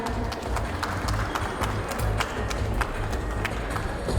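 An audience at a hospital organ-donation awareness talk concert claps after a classical instrument performance, a moderately loud, even spread of claps over a low background hum.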